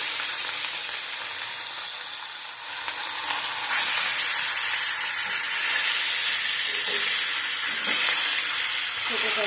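Katla fish pieces fry in hot oil in a pan, a loud, steady sizzle and hiss that rises and stays dense throughout, with faint kitchen clatter underneath.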